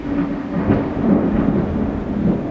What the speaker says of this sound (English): Just huge bolts of lightning.